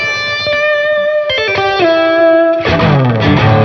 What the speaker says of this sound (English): I can turn this reverb on that's in the Plethora X, so you have more of like a lusher sound.